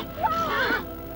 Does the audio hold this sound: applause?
no